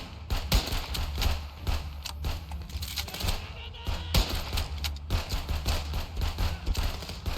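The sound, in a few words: gunfire in video game Contraband Police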